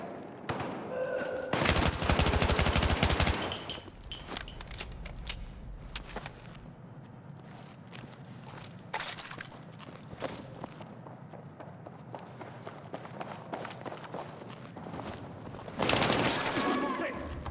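Gunfire in the Battlefield 6 campaign: loud bursts of automatic fire and rapid shots cluster at the start and again near the end, with scattered distant shots, clattering movement and voices calling out in between.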